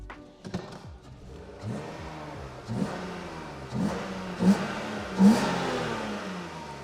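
A BMW E36 M3 with the S52 engine revs repeatedly while driving, several rising throttle blips and gear changes building in loudness, heard from inside the car with no talk.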